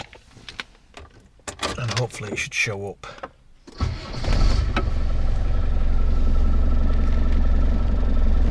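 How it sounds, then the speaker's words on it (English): Car engine cranking and catching, then settling into a loud, steady low idle rumble; someone talks briefly before the start. "I'll start the car"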